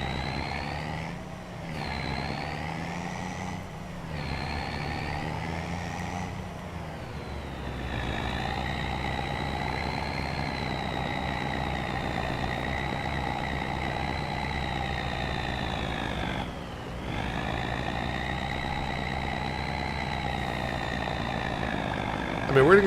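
A semi-truck in Farming Simulator 25 drones steadily throughout, its engine rising and falling through gear changes and revs before settling into a long even idle-like hum, close and continuous, with a voice talking over it at times.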